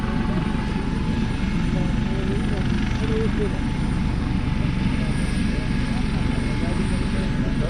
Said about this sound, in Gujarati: આવી ઘોડે હેલિકોપ્ટરને તપાવવું પડે હો ભાઈ ત્યારે જ ઉડાન ભરે